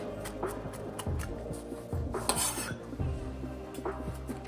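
Fresh ginger chopped with a knife on a board, a series of irregular, fairly close knocks with faint metallic clatter between them.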